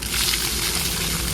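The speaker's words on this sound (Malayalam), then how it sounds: "ഈ നമ്മൾ വീണ്ടും ഇങ്ങനെ ബക്കറ്റിൽ വെള്ളം എടുക്കുന്നു," A bucket of water is poured out in a continuous, close, loud gushing splash that runs unbroken for over a second, with no talk.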